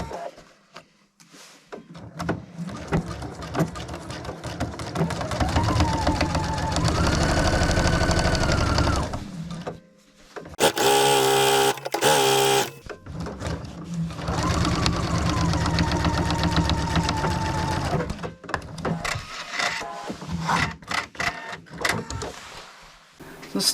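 Sewing machine running in long steady bursts as the side seam of a jacket sleeve is stitched, close and fairly loud, with short pauses and a brief clattering burst in the middle.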